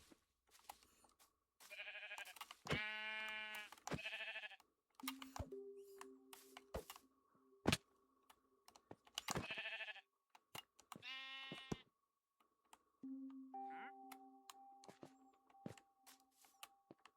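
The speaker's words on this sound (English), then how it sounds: "Come back here, sheep." Sheep in a Victorian town-building video game bleat repeatedly, several wavering calls spaced between clicks and short interface tones, fairly close and clear with no talking over them.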